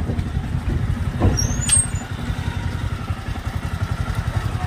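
Motorbikes arriving and pulling in to park, close engines idling with a rapid low throb, a brief squeal and brake hiss early on, steady rumble continuing throughout.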